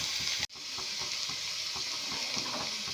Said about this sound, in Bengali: এবারে ওর মধ্যে দিয়ে দেব রসুন কুচি, আদা কুচি আর দেব পেঁয়াজ কুচি, দিয়ে এটাকে আমি ভালো করে একটু ভাজবো।